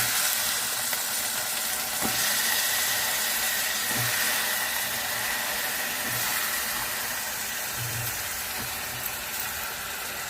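Brinjal pieces go into a pan of fried onions for a brinjal and drumstick curry, setting off a loud, steady, dense sizzle with faint scraping stirs, close up and with no talk.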